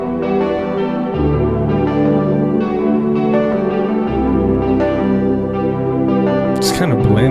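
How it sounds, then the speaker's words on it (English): Dark ambient synth preset called Explore the Ice Cave, used in a beat: sustained, shimmering chime-like pad chords that shift every second or so, loud and continuous, ending in a brief bright swell. "Actually, I like this sound a lot better. Explore the Ice Cave."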